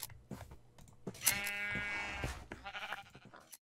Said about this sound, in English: Here's sheep, two sheep.